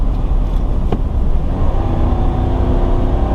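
A 2022 Chevy Silverado 2500 HD truck accelerating, a steady low engine rumble with road and tire noise heard from inside the cab, fairly loud and continuous, no talking.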